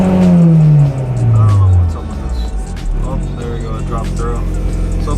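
Acura RSX engine revved up by a blip of throttle and falling back, its pitch sliding down to a fault-raised idle that hangs high and drones steadily, loud and close.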